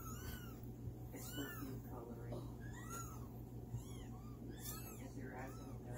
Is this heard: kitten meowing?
yes